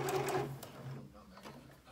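A sewing machine finishes stitching around a rectangle of fabric for a tote bag zipper pocket, humming steadily up close and then winding down and stopping partway through.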